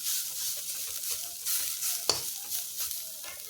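Giant taro (maan kochu) stirred and fried in a pan, a steady bright sizzle with soft scraping strokes and one sharp clink of the utensil midway, close and alone.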